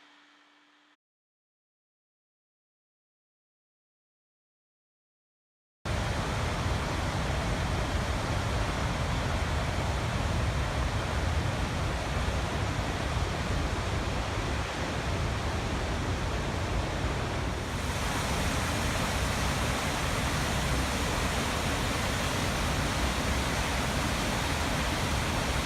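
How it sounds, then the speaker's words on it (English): Gullfoss, a giant waterfall in Iceland, roars as a loud, steady broadband rush that continues unbroken for about twenty seconds, after a few seconds of near silence at the start. No voices are heard. "we continued driving on to a giant waterfall called Gullfoss."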